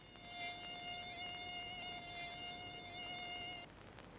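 A mosquito buzzing in a thin, steady, high-pitched whine close by that holds for several seconds and then cuts off, leaving only faint background hiss.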